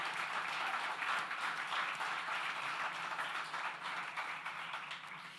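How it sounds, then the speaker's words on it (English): An event audience gives a round of applause to a music industry working group at a live music launch in Ontario, a steady wash of clapping from a moderately distant crowd that gradually tapers. "If we could all give them a massive round of applause."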